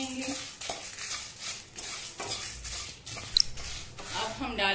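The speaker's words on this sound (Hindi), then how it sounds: "इसे भी हम धनिया और जीरा के साथ आधा मिनट तक भूनेंगे।" Coriander seeds, cumin and dried red chillies dry-roast in a pan, with dry rattling and scraping stirs, brief clinks of a utensil against the metal, quiet and close throughout.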